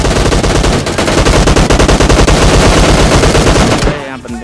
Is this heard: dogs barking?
no